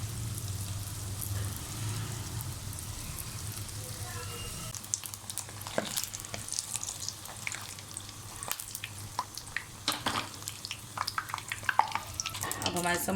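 Beef keema samosas deep-fry in hot oil in a home kitchen, a steady close sizzle with bursts of crackling pops and occasional stirring clatter.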